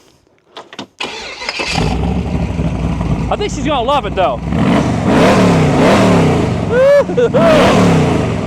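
A loud T-bucket hot rod engine with new Lake headers cranks and fires up, then revs repeatedly with rising and falling roars, someone speaking briefly over the noise.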